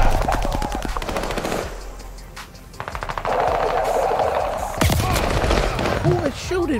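Rapid automatic gunfire from the video game Call of Duty Vanguard, bursts of shots and a loud blast near the end, with a voice speaking briefly over the shooting.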